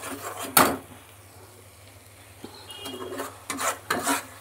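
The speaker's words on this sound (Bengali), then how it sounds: "এবার ভালোভাবে কষাতে হবে মশলাটাকে।" A spoon scrapes and stirs masala paste with sugar as it fries in oil in a pan for a crab and potato curry, giving a few sharp scrapes and shuffling rubs at close range between quieter pauses.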